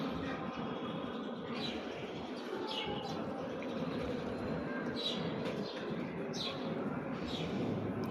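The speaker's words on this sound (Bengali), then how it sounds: "ওই যে পাখি আসতেছে, পাখি আসতেছে" Small birds chirp nearby in short, bright calls scattered over several seconds, set against a constant low rumble of outdoor background noise.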